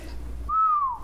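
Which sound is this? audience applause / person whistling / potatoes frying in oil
person whistling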